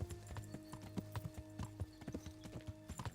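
Horse hooves clop in an uneven, repeated rhythm on the ground in Kingdom Come: Deliverance, faint and fairly close, with a soft tonal background hum beneath the steps.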